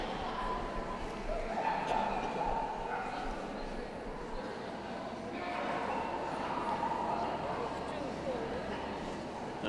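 Hounds including a Basset Hound, Poivre de Bretagne, Smooth-haired Dachshund and Greyhound bark and yip in the hound group ring at a 2014 Birmingham dog show, scattered amid crowd murmur and steady talking from a commentator.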